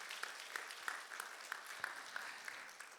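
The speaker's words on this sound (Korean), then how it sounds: "박수하도록 할게요." Faint, distant clapping at a church prayer meeting, with rhythmic sharp claps at a steady beat, roughly three per second, over a soft background of scattered hand noise.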